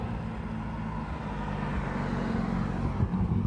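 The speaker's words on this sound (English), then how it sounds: "This is the spray truck." Mosquito spray truck driving at night, a steady low engine rumble and road noise that swells slightly toward the end, with no voices over it.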